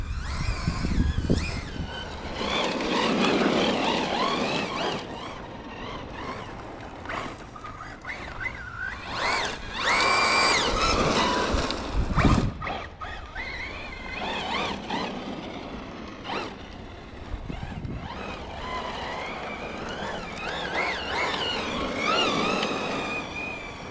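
A Team Corally Shiroi RC car on stock tires runs at full throttle, a loud electric whine rising and falling through passes, with whooshing wind noise and gravelly rolling, close to the microphone.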